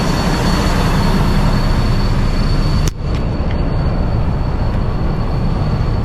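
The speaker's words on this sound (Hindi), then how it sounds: "ट्रेलर का डोर बंद करके आती हूँ।" A semi-truck trailer door slams shut once with a sharp, loud bang midway, set against a steady low engine and road rumble that continues before and after.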